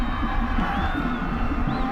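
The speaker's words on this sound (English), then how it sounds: "that brings the crowd of the blue and gold faithful across the way on the east sidelines to their feet to cheer" A stadium crowd at a 2003 South Carolina AAAA high school state championship football game between Gaffney and Sumter cheers and shouts continuously, a dense roar of many voices heard from a distance across the field.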